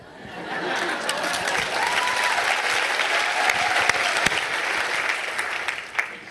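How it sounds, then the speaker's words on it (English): A seated audience at a talk breaks into sustained applause, a dense wash of clapping that swells and holds steadily for several seconds, with faint crowd voices mixed in. "You are applauding her because you're applauding that potential in you."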